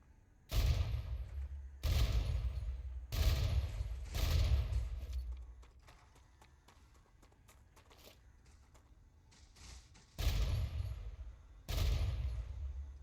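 Heavy weapon fire in the video game StarRupture, loud sustained bursts of rapid shots with deep thumping impacts, several separate volleys broken by a quieter gap with faint clicks.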